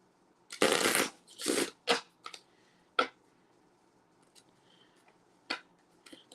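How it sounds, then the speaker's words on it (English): A deck of playing cards is riffled and shuffled for a travel card game: two long ruffling bursts, then a few sharp snaps and taps trailing off into quieter single card clicks, close and with no voices. "since I haven't shuffled these cards yet, give me a minute."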